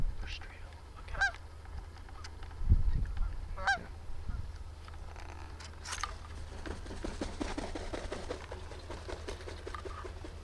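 Geese honk while coming in to land over decoys during a goose and duck hunt, with a few distinct calls at first, then fainter overlapping honks and wingbeat-like patter against low outdoor rumble.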